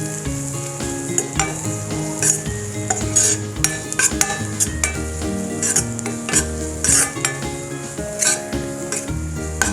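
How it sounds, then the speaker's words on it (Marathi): Spices such as red chilli powder and coriander powder are stirred into onions in a frying pan, a spoon scraping and clinking in rhythmic strokes over a steady sizzle, close and clear with no talking. "व्यवस्थित मिक्स करून घेऊया."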